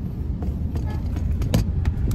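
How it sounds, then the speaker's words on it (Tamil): Busy road traffic on a drive toward Andhra Pradesh, a dense low rumble of cars and heavier vehicles passing close by, with brief swishes of vehicles going past over the continuous engine drone. "இங்க ரொம்ப டிராஃபிக்கா இருக்கு guys."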